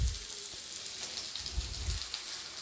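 Taro root (arbi) pieces shallow-fry in a pan, giving a soft, steady sizzle with occasional low bumps and crackles.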